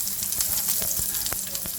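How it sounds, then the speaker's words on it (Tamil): Mustard seeds crackling and sizzling in hot oil for tempering Tamil-style ponnaganni keerai kadayal, a dense close frying hiss broken by quick sharp pops. "கீரைக்கு நம்ம எண்ணெய் ஊற்றி கடுகு போட்டிருக்கோம் தாளிக்கிறதுக்காக"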